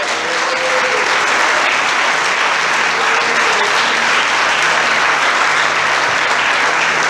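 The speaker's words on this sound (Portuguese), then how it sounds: "Você pode aplaudir ao Senhor." A church congregation claps loudly for the Lord during a worship service, a thick, even roar of applause from many hands that holds steady throughout, with faint voices beneath.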